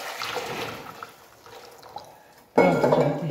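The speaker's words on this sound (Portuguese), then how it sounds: "Aqui tem um litro de água fervendo que eu já coloquei para adiantar." A litre of boiling water poured into a pot while making guava dessert in syrup, quiet liquid trickling and drips at first, then a louder gushing splash near the end.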